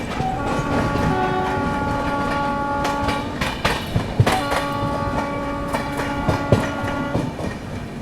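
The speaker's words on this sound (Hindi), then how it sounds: "और कोई ट्रेन के साथ क्रॉसिंग भी हो रही है।" Passing train rumbles steadily beside a moving Humsafar Express on the New Delhi to Prayagraj line, with a sustained horn-like tonal drone and scattered sharp clanks and clicks of wheels over rail joints, close and loud throughout.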